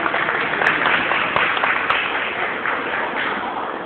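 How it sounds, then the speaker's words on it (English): A crowd gives a round of applause at a community gathering in Rogers Park. Dense, steady clapping from many hands keeps up for about four seconds without a break. "let's give a round of applause for that."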